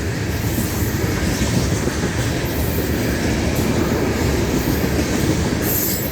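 A freight train on the Florida East Coast Railway, carrying some intermodal cars, rolls past with a steady loud rumble and rhythmic wheel clatter, plus faint high wheel squeal, and no voices.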